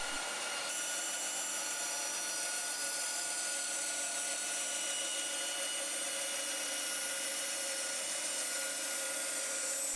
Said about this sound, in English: I can then cut these out on the bandsaw